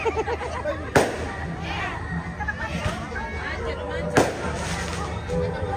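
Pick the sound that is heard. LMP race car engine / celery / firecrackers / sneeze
firecrackers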